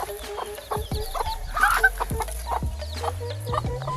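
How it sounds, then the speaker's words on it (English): A hen clucks while baby chicks peep in rapid, high, rising chirps on a trek in Meghalaya, northeast India, all close by and fairly soft under a low, steady rush of background noise. "God, there are baby chicks."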